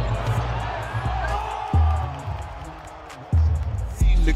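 Lakers basketball arena crowd noise, a steady roar of cheering with repeated low booming thumps, sounding close and full, with a commentator's voice running over it.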